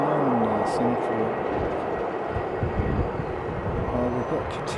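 A Qatar airliner taking off at Sydney airport gives a steady broadband jet roar at a distance that holds throughout, with people talking over it.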